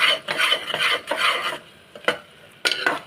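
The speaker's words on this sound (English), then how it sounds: "now I am frying these spices in the oil" Scraping and stirring of spices frying in oil in a metal pressure cooker, a faint sizzle beneath, in bursts with short pauses, close and fairly loud.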